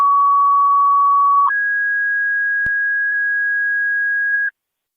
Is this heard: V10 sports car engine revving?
no